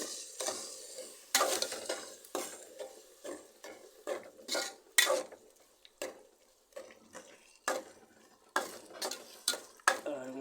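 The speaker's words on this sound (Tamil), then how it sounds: "அரைச்சி வச்சு தக்காளி காய போட்டுக்கலாம் அதில் பாருங்க போட்டாச்சு கொஞ்சம் கிண்டி விடலாம்" A spoon scrapes and clinks around a cooking pot while stirring tomato and ground masala for chicken liver curry, giving irregular close scraping strokes that sit fairly quiet with pauses between them.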